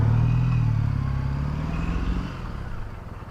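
A motorcycle engine as the rider grabs the throttle, a loud low drone that sags and fades toward the end, with rough road noise underneath.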